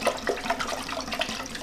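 Very warm water runs steadily from a tap to clean leather work boots, a continuous close splashing and gushing with no talk.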